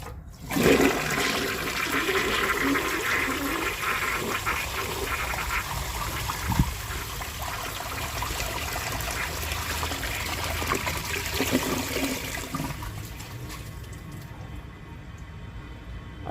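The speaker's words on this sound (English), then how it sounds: "I'm going to see if it can take the rest of this dirt out with a second flush" A 1953 Kohler Trylon toilet flushing a second time to clear leftover dirt, a loud rushing surge that holds steady, then tapers to a trickle as the bowl refills.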